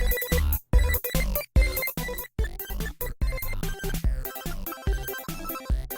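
A bouncy electronic chiptune polka with bleepy synth melody and punchy bass beats, loud and busy with brief choppy gaps.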